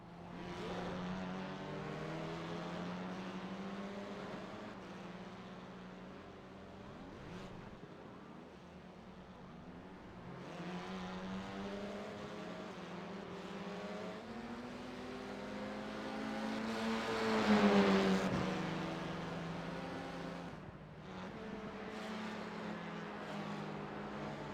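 A Fia F4 race car in the iRacing game drives at speed and spins out, its engine droning steadily and surging louder in the middle.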